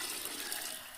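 Water poured from a pot into a large cooking vessel for vegetable biryani for fifty people makes a brief, soft, continuous splashing rush.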